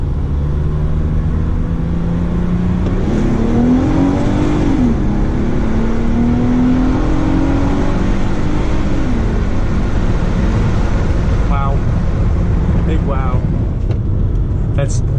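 A 2015 Mitsubishi Outlander GT with all-wheel drive accelerating hard, its engine rising steadily in pitch then dropping at a shift before climbing again, loud and continuous inside the cabin, with a voice talking over it.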